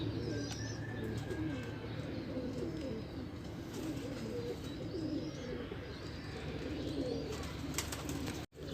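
Ferozpuri pigeons coo and chirp amid the steady bustle of a bird market in Multan, with soft overlapping calls and occasional wing flutters.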